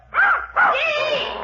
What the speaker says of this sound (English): Just my nephew's puppy.